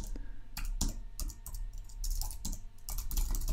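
Someone types on a computer keyboard to save a file in vim, a close run of quick clicky keystrokes in irregular bursts with short gaps between them.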